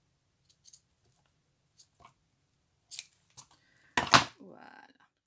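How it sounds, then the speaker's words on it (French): Scissors snipping design paper at an angle for a handmade card, a few sparse, quiet clicks followed by one louder, longer cut near the end, in a quiet room. "je vais plier celui-là à moitié et je viens couper en biais"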